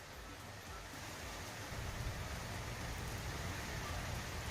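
Heavy rain pours steadily from a depression moving over Tamil Nadu, a dense, even hiss of drops on surfaces that stays close, constant and fairly quiet, thickening slightly partway through, with no voices.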